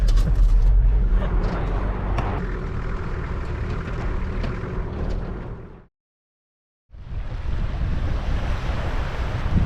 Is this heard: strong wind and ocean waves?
yes